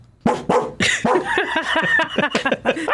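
A man imitates a dog with his voice, giving a rapid series of about a dozen loud, close, hoarse barks and yips in uneven rhythm.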